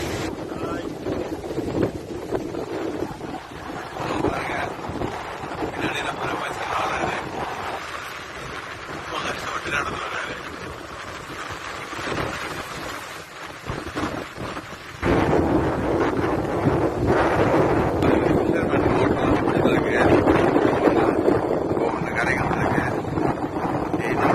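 Fishing boat coming in to shore, engine rumble mixed with wind buffeting the microphone and surf noise, steady throughout and louder in the second half, with no speech.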